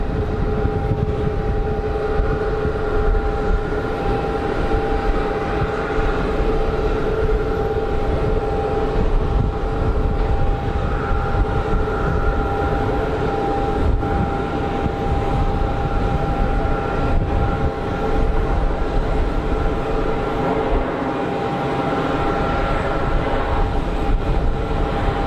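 An easyJet airliner in from Porto lands at Geneva Airport in a crosswind, its loud, continuous engine roar filling the whole stretch without a break.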